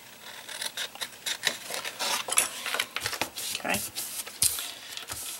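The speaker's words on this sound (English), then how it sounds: "I've got mine a little bit off, so I'm just going to trim it." Paper is trimmed for a paper notebook wallet, with close, quiet scissor snips and rustling that come in quick uneven strokes.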